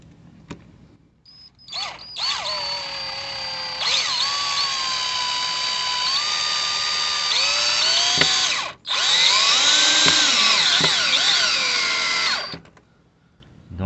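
A power drill drives screws into a DIY wooden planter in long, loud whirring runs with rising and falling pitch, each burst held for several seconds, one brief stop near the middle and quiet before and after.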